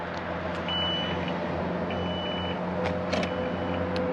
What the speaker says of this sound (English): Warning alarm sounds, and the lift gate closes.